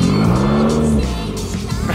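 Subaru WRX with a stage 4 six-puck clutch pulls hard, its loud engine note rising steadily and then dropping back as it accelerates, up close and with no one talking.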